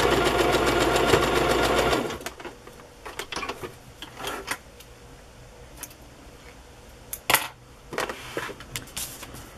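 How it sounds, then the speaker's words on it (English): Sewing machine stitching along both edges of vintage fabric to hold down petal points, a dense fast whir for about two seconds, then stops, followed by scattered small clicks and handling taps. "I'm going to sew along both edges so that the points of the petals don't flip up."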